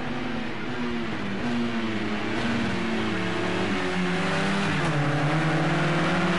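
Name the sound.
race cars accelerating in a touring car video game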